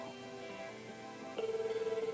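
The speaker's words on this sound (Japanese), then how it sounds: "リアル電話ですね。" A children's Challenge Petit learning toy telephone starts ringing with a steady, pulsing electronic ring tone, close and moderately loud, following a short stretch of quieter household background.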